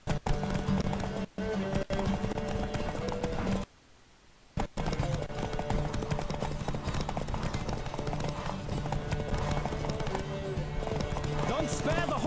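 A horse gallops in The Witcher 3, its hooves clip-clopping in a steady fast rhythm at close range, with voices talking over it and a short break in the middle.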